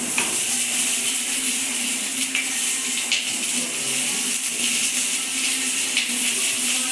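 Onion and garlic fry in an oiled pan for tomato chutney, giving a steady, close sizzle broken by a few light scrapes of a stirring spoon.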